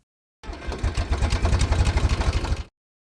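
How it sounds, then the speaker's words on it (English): A video game engine start-up sound effect: a short burst of rapid, pulsing mechanical combustion that turns over and settles into an idle-like chug for about two seconds, close and isolated. "One for starting up the engine"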